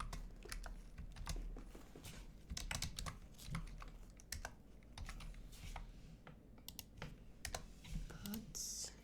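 Rapid, uneven clicking of computer keyboard keys as a material name is typed into Revit software. The close, steady keystrokes continue throughout over a low background hum.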